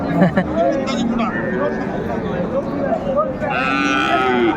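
A Sahiwal bull moos loudly and repeatedly at a cattle market in Dinajpur, over a steady background of crowd chatter and market noise.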